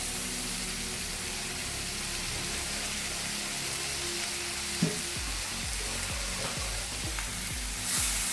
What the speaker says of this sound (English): I'm adding in the 1 tomato what we had kept.